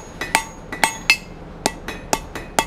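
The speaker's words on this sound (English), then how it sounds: "All right, forge this taper down first." A blacksmith's hammer forges down the taper on a steel slot punch, about nine sharp, ringing metallic blows in an uneven rhythm, close and clear, with no talking.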